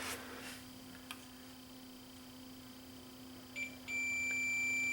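A multimeter tests a shorted diode on a 2012 Panasonic plasma TV board. After faint probe clicks, the meter gives a brief chirp and then a steady continuity beep, quiet and close, with no talking.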